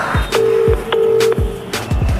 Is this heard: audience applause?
no